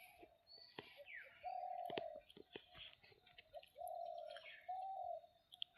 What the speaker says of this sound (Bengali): আমার লাইফে এতগুলো বুলবুলি পাখি দেখি নাই।